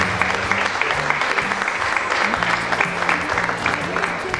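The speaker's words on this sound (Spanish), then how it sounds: "con la venia de nuestros aplausos" Applause from an audience at a formal ceremony, a steady patter of many clapping hands with a voice talking faintly underneath throughout.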